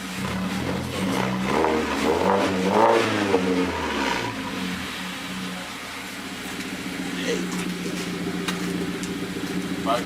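Mazda 3 fitted with a CorkSport exhaust revs up and settles to a steady idle, the engine note swelling loudly early on before easing into a low rumble, with faint talk in the background.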